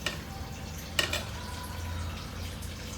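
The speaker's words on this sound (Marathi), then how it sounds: "सो याला अशी गदा गदा उकळी येऊन देऊया." Vegetable curry with eggplant bubbling in a pot, a soft, watery burble with a brief splashy burst near the start and a low simmering rumble beneath.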